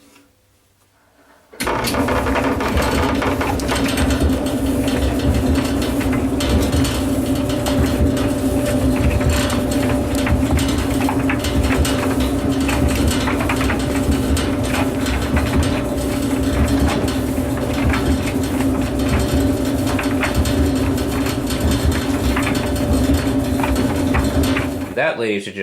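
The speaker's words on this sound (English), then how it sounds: "That, ladies and gentlemen, is the Whirlpool Gold Ultimate Care 2 Series washer and dryer." A Whirlpool Gold Ultimate Care II washer and dryer run with a steady mechanical hum and rhythmic rattling that stays even for a long stretch after a brief quiet start.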